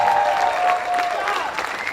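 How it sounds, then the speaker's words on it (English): Audience applause at a school beginner band concert, a steady dense patter of many hands clapping throughout with some crowd noise mixed in. "A round of applause for these students on stage."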